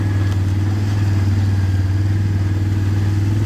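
A four-wheeler ATV engine idles steadily and close by with a low, constant droning hum throughout, while someone speaks softly over it on a wooded hunting trail.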